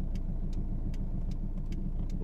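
A car engine running low and steady while reversing during a three-point parallel-parking manoeuvre, a close, even rumble with faint intermittent ticking.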